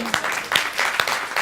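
Brief burst of audience clapping in a room, a few distinct claps standing out against a thinner patter.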